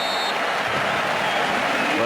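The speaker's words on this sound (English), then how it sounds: "even the Salzburg supporters are applauding that" Salzburg supporters applauding in a football stadium during a Chelsea versus Red Bull Salzburg match, a dense continuous roar of distant clapping from a large crowd.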